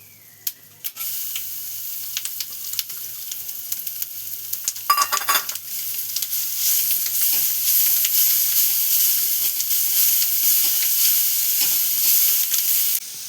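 Grated carrot roasting in a pan, a faint quiet start with a few clicks, then a steady sizzle with stirring that holds to the end.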